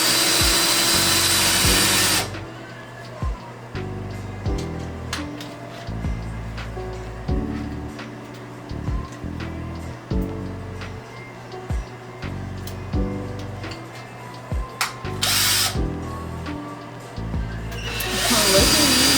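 A power drill bores into a bathroom wall to mount shelves in one loud opening burst, then a shorter burst later, with clicks, taps and handling noises in between.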